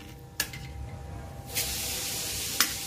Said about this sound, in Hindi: प्याज को हमें थोड़ा और भूनना है